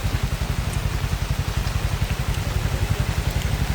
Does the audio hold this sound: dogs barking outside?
no